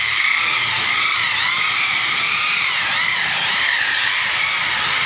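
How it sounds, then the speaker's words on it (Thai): A car paint polishing machine fitted with a foam sponge pad buffs a car body with polishing compound: a loud, close, continuous whirring drone with a wavering high whine throughout. "ตอนนี้คือเป็นขั้นตอนการขัดเงานะครับ โดยใช้น้ำยาเบอร์ที่ 3 นะครับ ใช้ใบขัดเป็นหัวฟองน้ำนะครับ"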